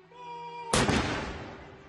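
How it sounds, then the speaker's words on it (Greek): A single loud cannon blast from a gun salute at the Tower of London, marking the accession of Charles III, booms abruptly out of a quiet hum and then decays with a rolling echo. "Στον πύργο του Λονδίνου ήχησαν 62 κανονιοβολισμοί για να τιμήσουν την ανάρρηση στο θρόνο του Καρόλου."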